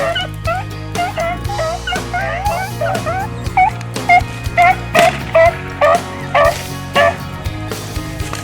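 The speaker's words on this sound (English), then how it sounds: "Those dogs, they got these rabbits stretched out at this point." A pack of hunting dogs bays and yips in rapid, overlapping cries while chasing rabbits on river bluffs, and the howls settle into an even rhythm of loud, regular barks.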